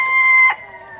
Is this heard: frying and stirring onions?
no